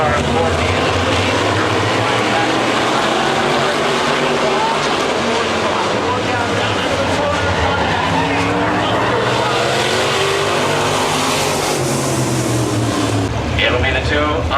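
Modified race cars racing at Midvale Speedway, engines roaring loudly and constantly as they pass and swell, while an announcer calls the race over the noise.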